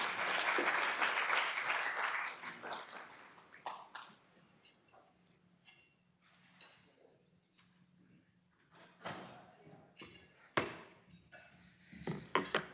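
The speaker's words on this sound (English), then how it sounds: "another round of applause" Loud applause at an awards dinner fills the opening seconds, then fades into scattered claps and light room noise, with a few sharp claps near the end.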